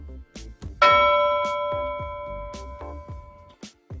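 A bright bell-like chime rings once and decays slowly, with a few softer tonal clicks before and after in a quiet setting.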